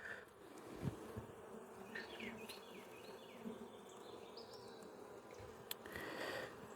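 Honeybees working around a hive as a nucleus colony is moved into a hive body: a soft, continuous buzz with individual bees whining past up close now and then, quiet overall and without voices.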